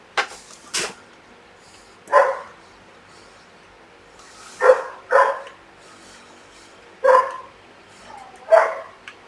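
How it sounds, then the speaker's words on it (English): Rescue dogs next door bark in short separate bursts, about six or seven sharp barks with pauses between, heard at a moderate distance in an otherwise quiet room. "It's my neighbour's dogs."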